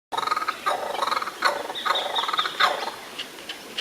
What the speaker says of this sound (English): There I watched one of my favorite Aussie birds, the kookaburra, and heard their funny jungle bird-like calls.